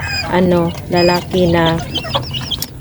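Rhode Island crossbred chicks in a brooding cage make loud, clear repeated calls in three sustained bursts, followed by softer scattered chirps near the end.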